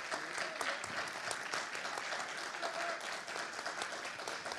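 An audience claps for a classical music duo, a fairly quiet but continuous wash of many hands in a concert room, steady throughout without talk over it.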